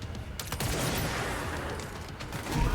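Gunfire in the action video game Control, a dense, steady burst of shots layered over game ambience, with a heavier thump near the end.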